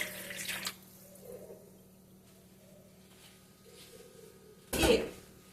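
Warm milk is poured into a bowl for bread dough, heard as two brief, close splashy gushes, one at the start and one near the end, with quiet kitchen stillness between.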